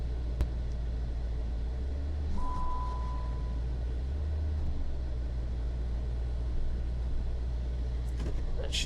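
A lowered Dodge Challenger SRT idles nearby with a deep, steady low rumble that holds evenly throughout, alongside faint background noise and a brief tone.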